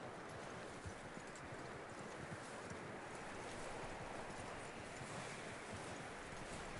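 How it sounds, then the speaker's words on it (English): Horse hooves clip-clop steadily at a walking pace in Red Dead Redemption II, over a constant, wind-like background hiss; no voices. "That looks like a decent horse."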